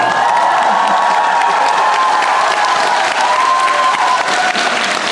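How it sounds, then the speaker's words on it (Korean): Audience applause with some cheering for the conductor at a Korean traditional music concert, the 2025 Yeongdong World Gugak Expo, a dense, steady wash of clapping holding loud throughout with no talk. "우리 이현창 지휘자님께도 박수 한번 주세요."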